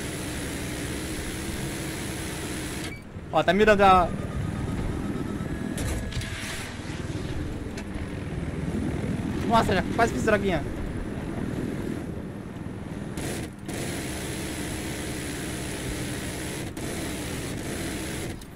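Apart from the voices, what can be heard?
helicopter flying in a video game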